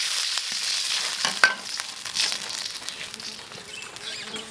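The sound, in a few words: stir-frying Pixian chili bean paste in a wok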